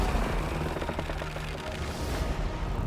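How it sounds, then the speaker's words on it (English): Mortars firing in a Warhammer 2 battle for the Vampire Coast, a dense, continuous rumble of overlapping distant thuds and crackling shots, steady and loud throughout. "Mortars, again, have done their work, but they're still firing all over the place"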